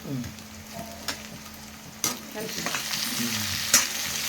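Capsicum is added to a frying pan for jowar upma and stirred. A constant sizzle carries sharp clacks of a spatula against the pan at intervals.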